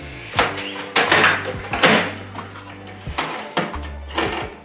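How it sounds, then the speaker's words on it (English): Canon MAXIFY GX-series inkjet printer printing a print head alignment page indoors, with repeated mechanical whirs and clacks of the carriage and paper feed, a steady motor hum underneath, and short pauses between passes, loud and close. "Now I leave the printer for 10 minutes until the print head alignment is printed."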